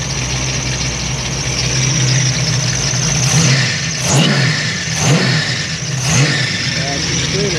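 A 1981 muscle car engine converted to fuel injection, revved hard in several quick blips that rise to a loud scream and fall back over a rough, steady idle, close by for about eight seconds.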